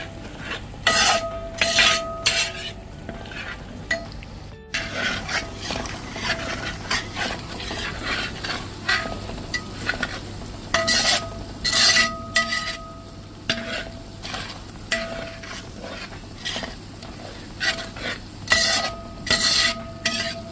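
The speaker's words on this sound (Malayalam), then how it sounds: "നന്നായിട്ട് മൂപ്പിച്ചെടുക്കണം കേട്ടോ" Spice powder being stirred and roasted in a pan for venison pickle: a steady dry sizzle with repeated scraping strokes of a spoon against the pan, close and continuous throughout.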